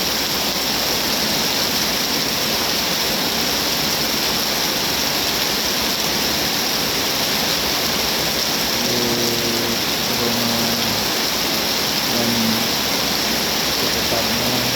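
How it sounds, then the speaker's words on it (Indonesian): Heavy afternoon rain pours down steadily, a dense, loud wash of falling water that holds constant throughout, with faint low engine-like tones surfacing briefly near the end. "Hujannya lumayan deras."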